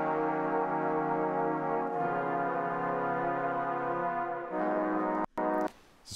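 Several trombone harmony layers sound together as one full, thick brass chord that shifts voicings a few times, sustained and loud, ending with a couple of abrupt cuts and a brief noisy burst.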